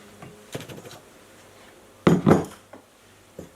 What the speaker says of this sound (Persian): کاملا مواد خشک رو با هم مخلوط میکنم